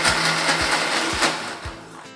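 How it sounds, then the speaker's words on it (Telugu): A mixer grinder whirs loudly and steadily while blending ginger pickle, a close, continuous motor drone with faint rhythmic thumps of the contents, cutting off at the end. "ఈ మిశ్రమాన్ని అంతటిని ఒకసారి మిక్సీ పట్టుకుంటే ఆల్మోస్ట్ మన అల్లం పచ్చడి రెడీ అయిపోయినట్లే"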